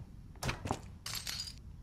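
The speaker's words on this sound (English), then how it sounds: "Something's banging on that door." Muffled knocks thud against a door in the horror game Layers of Fear, a few irregular bangs followed by a brief rattling clatter, moderately loud with no talking.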